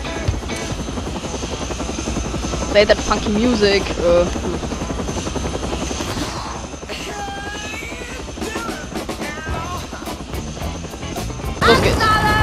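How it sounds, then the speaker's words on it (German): A video game helicopter's chopping rotor drone runs steadily throughout, in the game Shaun White Snowboarding, with a person talking and music playing over it. "Da oben ist der Heli."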